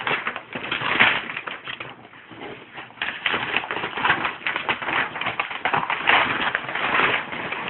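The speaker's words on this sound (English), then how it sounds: "Open the wrapping paper." Wrapping paper torn open from a gift, close crinkling and ripping in rapid irregular bursts that continue steadily with brief lulls, no voices over it.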